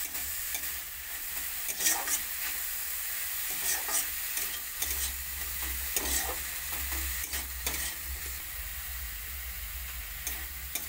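Carrots fry lightly in ghee, a steady soft sizzle under repeated scraping and stirring strokes from a spatula, close and continuous throughout.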